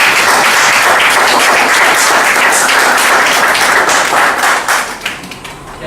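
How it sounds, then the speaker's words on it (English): Loud, close clapping from an evening meeting audience, a dense continuous burst of hands that holds steady for several seconds and then tapers off into scattered claps. "Don't be stingy with your applause."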